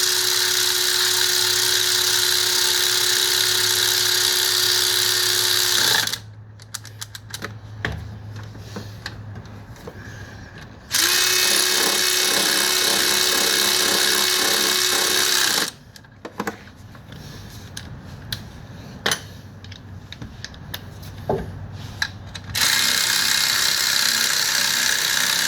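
Power tool and ratchet running down 14 and 12 millimeter bracket bolts on a 2004 Toyota Sienna during a timing job: two sustained, loud whirring bursts of the tool alternate with quieter stretches of rapid ratchet clicks and clinks.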